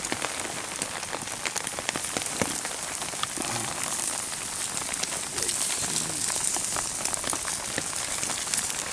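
Rain patters steadily on surfaces at a camp bivouac in Lozère, France, with dense, close drops and occasional sharper taps, and a bird calls faintly in the background.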